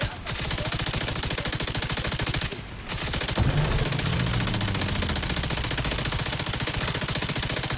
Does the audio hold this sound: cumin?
no